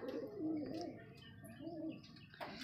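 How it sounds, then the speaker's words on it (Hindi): Desi pigeons, red-spotted birds in a family flock, coo in a soft repeated rolling rhythm close by, with a few light chirps and a brief wing flutter near the end. "तो देखिए ऐसे कबूतर है ये, लाल छापदार निकलते है"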